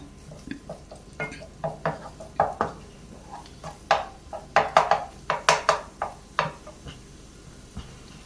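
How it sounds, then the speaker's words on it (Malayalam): Scrambled egg stirred and broken into small pieces in a pan over a raised flame for butter garlic egg fried rice: a run of close, irregular scraping and clinking taps of the utensil against the pan, with no talk. "നമുക്ക് നല്ലതുപോലെ ഇളക്കിയിട്ട് ഇങ്ങനെ ചെറിയ കഷ്ണങ്ങളാക്കിയിട്ട് എടുക്കണം"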